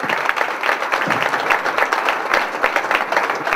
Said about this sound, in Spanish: Muy bien, un aplauso fuerte para ustedes.